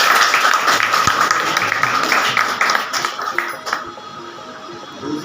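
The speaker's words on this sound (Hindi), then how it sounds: "तालियों से" Audience applause fills a college award and farewell ceremony hall at Sant Guru Ghasidas PG College, Kurud: dense, sustained clapping that holds steady for several seconds, then thins and fades toward the end.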